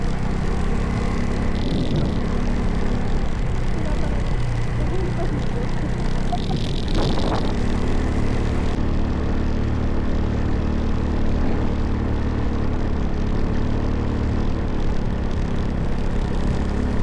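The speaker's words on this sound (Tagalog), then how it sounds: "iba na tunog ng makina niya eh" A motorcycle engine drones steadily throughout, sounding strained and labored as it struggles, with a brief rise in noise midway and no talking.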